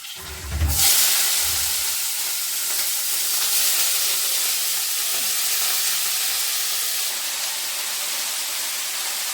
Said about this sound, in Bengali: চলো চলো বাঁধাকপিটা একটু দিয়ে দিচ্ছি